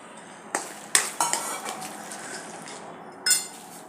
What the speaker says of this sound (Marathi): तर याच्यात ओले वाटाणे घालून घेऊया.